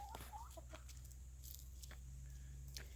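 Backyard chickens taking a dust bath make faint, scattered clucks and short calls over a steady low hum, with a few soft scratching rustles.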